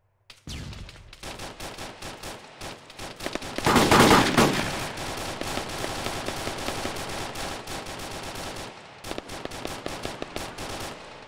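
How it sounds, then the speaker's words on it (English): Heavy automatic gunfire in a tactical shooter game: dense, rapid bursts run almost continuously, peaking in a loud, sharp volley near the middle before continuing as steady rattling fire. "Oh, someone's got a heavy gun. Went right through that wall."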